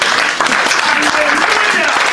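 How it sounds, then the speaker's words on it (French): A church congregation claps together during a Christmas sermon, steady sustained applause filling the room for a couple of seconds with voices mixed in. "On peut applaudir pour le Seigneur."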